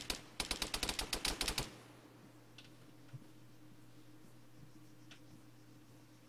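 A rapid burst of roughly a dozen automatic gunshots rings out in the Project Argo video game, crisp and close, then fades to quiet ambience with a few faint distant clicks.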